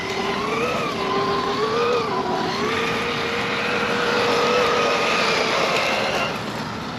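Traxxas Stampede 4X4 RC truck with a 3500 brushless motor driving on dirt, a steady high-pitched electric whine that rises and falls with the throttle, sustained and fairly loud with no talk.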